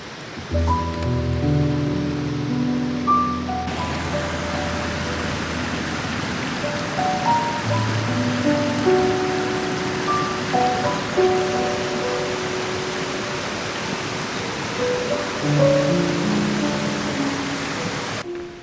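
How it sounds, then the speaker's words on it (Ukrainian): Constant rushing water roars nearby at the Malyi Kuzmynets waterfall in Ukraine, a steady broad wash of falling water with faint higher tones scattered through it. "Це водоспад Малий Кузьминець."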